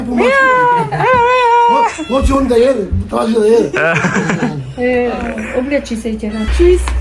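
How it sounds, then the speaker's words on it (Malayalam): Several cats meow repeatedly at close range, drawn-out cries overlapping one another, with a person chuckling and talking nearby. "മൂന്ന് നല്ല അടിപൊളി പൂച്ചയൊക്കെ ഉണ്ട് കേട്ടോ"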